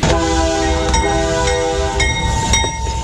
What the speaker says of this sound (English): you can see the freight trains snaking in from Mexico through the heart of Brownsville